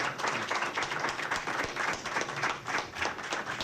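Members of the media applaud Bobby Cox at his last press conference: a dense, steady round of many hands clapping in a room, moderately loud and continuous throughout with no talk over it.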